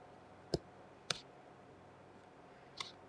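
A craft blade or scissors snips a small gouge out of the fold of a holiday card: three sharp, isolated clicks spaced across a quiet room, close and crisp, with no talking.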